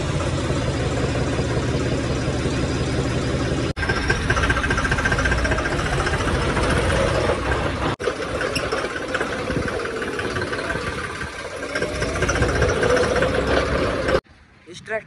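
Two John Deere tractors, a 5210 and a 5047, idling together with a loud steady diesel chug and knock; people talk over the engines, and the sound cuts off sharply near the end.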